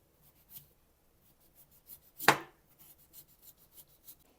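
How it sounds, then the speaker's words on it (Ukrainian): A knife cuts raw beetroot into thin strips for borscht, soft scattered taps and scrapes with one louder, sharper slicing stroke in the middle, close and alone. "свікло буду нарізати також такими смужками тоненькими"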